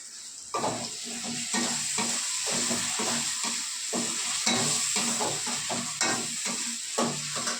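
Masala sizzling in hot oil with a spoonful of spicy chilli sauce, stirred in steady repeated scrapes that make a rhythmic clatter over a constant frying hiss, close and fairly loud, no talking.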